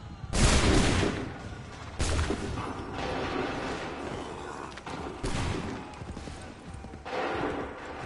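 Musket volleys ring out in the video game Assassin's Creed 3: four separate booming fusillades spaced a second or more apart, each a ragged burst of many shots, with a softer murmur of battle between them.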